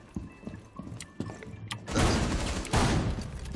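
Gunfire rings out in the video game Rainbow Six Siege, starting with a few scattered sharp shots, then two loud sustained bursts of blasts that fill the second half.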